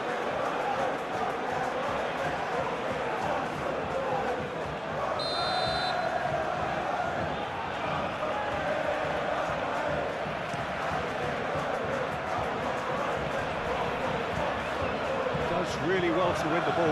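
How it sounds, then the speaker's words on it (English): Football video game simulation of a Premier League match between Bournemouth and Manchester United, with a stadium crowd murmuring and grumbling in annoyance as a steady, loud wash under continuous match commentary. "You can hear the annoyance in the crowd."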